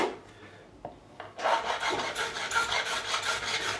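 Fret file recrowning the frets of a PRS Mark Holcomb signature guitar, a few light scrapes and then steady close rhythmic rasping strokes along the metal, with no voices.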